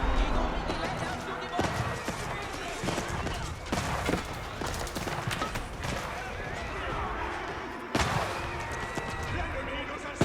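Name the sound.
hand cannoneers firing in Age of Empires 4 video game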